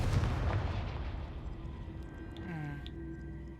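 Confringo fire spell blast in the Hogwarts Legacy video game, a deep booming burst that rolls off into a low rumble with a faint whistling tone as it fades.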